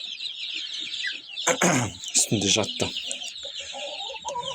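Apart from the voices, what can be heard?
domestic hen clucking, newly hatched chicks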